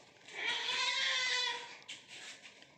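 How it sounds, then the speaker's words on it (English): A single goat gives one drawn-out, wavering bleat lasting about a second and a half, close and clear, followed by a short quieter trailing sound. "G is a goat."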